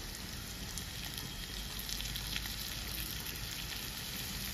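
Garlic paste hitting a hot pan, giving a dense, even hiss and crackle for a few seconds, faint and steady with no voices.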